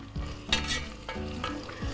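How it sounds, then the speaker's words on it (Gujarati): Ginger, garlic and onion sautéing in a pan, with bright crackling sizzle broken by several clinking strokes of a stirring spoon against the metal, close and clear with no voices. "બસ જો આદુ લસણ સંતળાઈ જાય"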